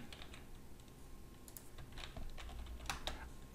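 Quick, light keystrokes on a computer keyboard tap out a short word in scattered clicks over a steady background hum, with no talking.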